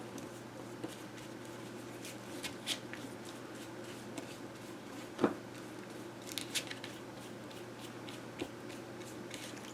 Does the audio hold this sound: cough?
no